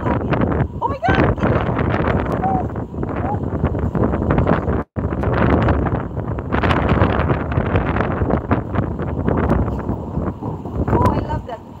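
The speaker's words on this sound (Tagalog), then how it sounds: "Malakas ang hangin." Strong wind buffeting a phone microphone outdoors, with loud continuous rumbling gusts and a brief dropout midway, while a person talks over it.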